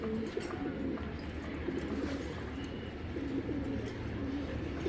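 A Giribaz pigeon coos softly and repeatedly at close range over a low, steady background hum.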